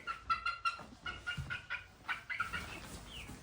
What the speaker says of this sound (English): There's our chicken Popper